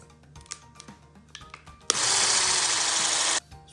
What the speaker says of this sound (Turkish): Hazırladığım muhallebimi daha güzel bir kıvam alması için mikserle iyice çekeceğim.